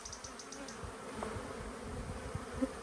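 Honey bees buzz during a hive inspection, a low, continuous close hum with no voices and a small knock near the end.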